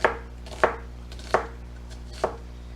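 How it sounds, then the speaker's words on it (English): A kitchen knife chops onions and vegetables on a cutting board, with four crisp, close thuds spaced unevenly over a quiet room hum and no talking. "I'm just going to keep on chopping."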